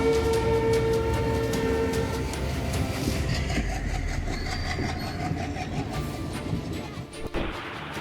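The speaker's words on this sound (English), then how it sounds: "the train rushes in as monkeys cross the tracks" A train rumbles through a level crossing with a steady clattering roar, wheels clacking on the rails, loud and close, with a brief metallic squeal near the end, as monkeys cross the tracks.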